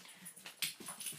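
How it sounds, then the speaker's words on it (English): A puppy whimpers in a short burst of high, thin whines and yips, close and fairly quiet, with no talking. "My puppy."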